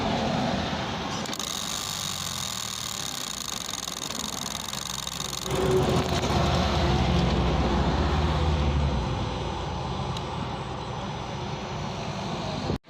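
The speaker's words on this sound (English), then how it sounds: "So I'm gonna go in the vehicle and crank the vehicle over and see what's good." A 2018 Honda Vezel hybrid suffering intermittent power loss is cranked over, giving a steady mechanical whirring and ratcheting drone that grows heavier partway through before cutting off abruptly, with no talking.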